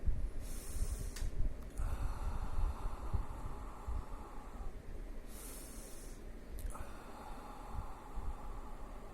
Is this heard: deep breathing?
yes